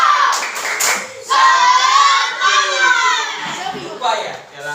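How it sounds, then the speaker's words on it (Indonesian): Children in a classroom clap their hands for a classmate, scattered brief claps mixed with lively overlapping kids' voices and shouting close by. "Oke, tepuk tangan untuk Arifah semuanya."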